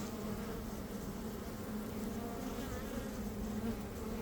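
Honey bees of a swarm buzz steadily at their hive, a dense, continuous hum from many insects held at an even level throughout, with no voices.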